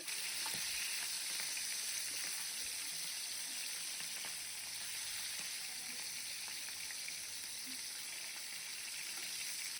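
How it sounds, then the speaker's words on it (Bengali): Rohu fish heads fry in hot oil, giving a steady, dense sizzle that fills the whole stretch with faint crackles and occasional stirring, no voices. "মাথাগুলোকে না একটু দাঁড় করিয়ে করিয়েও ভেজে নেব"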